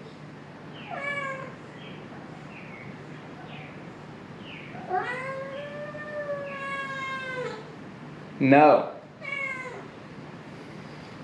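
A house cat meows repeatedly to be let outside, drawn-out wavering calls close by, then a short harsh yowl, with a brief spoken word in between.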